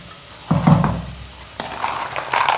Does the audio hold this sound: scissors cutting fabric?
no